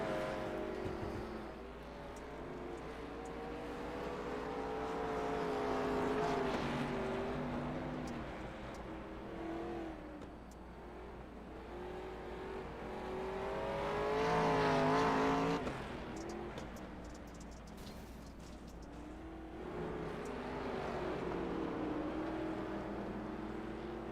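Dirt-track race car engines roar continuously at Eldora during a 100-lap race, swelling and fading in long waves as the cars circle past, loud and close with no talking.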